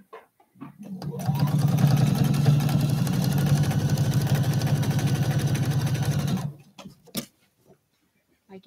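A sewing machine lock-stitches binding onto a quilt, running in one steady burst of rapid mechanical stitching for about five seconds before stopping, followed by a few faint clicks.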